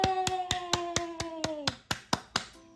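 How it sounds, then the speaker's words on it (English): Around ten crisp, evenly spaced hand claps, close and bright, over a sustained musical tone that fades midway, in a cheerful children's counting game featuring Peppa Pig. "Give yourself a huge round of applause."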